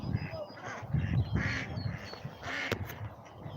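Ducks quack at a duck pond during an outdoor walk, several nasal calls at moderate distance, with a person speaking quietly in between.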